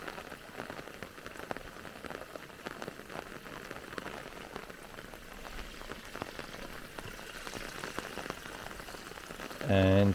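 Light, gentle rain patters steadily on a farm, a soft dense hiss of drops with scattered closer ticks, and a brief louder burst right at the end.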